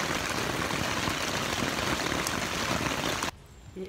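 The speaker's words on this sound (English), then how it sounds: "It is raining in Western Washington." Steady rain falling on the Washington coast at Kalaloch beach, a dense continuous patter that cuts off abruptly near the end.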